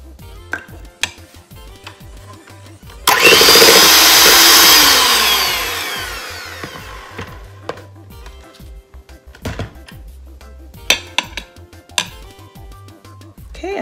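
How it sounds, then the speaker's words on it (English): A cream cheese and peanut butter mixture for a no-bake Butterfinger pie whirred together with an electric mixer in one loud, sustained burst of a few seconds, framed by scattered clinks and knocks of bowls and utensils. "all I'm going to do is mix the cream cheese and peanut butter mixture together"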